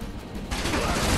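Gunfire in the video game Final Fantasy 7 Remake, a rapid dense burst of shots that swells louder halfway through, close and harsh.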